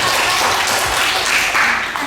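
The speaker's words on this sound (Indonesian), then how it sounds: "beri aplaus dulu" A classroom full of students applauding a group that has just finished presenting, a dense, steady wash of clapping filling the room for the whole short moment.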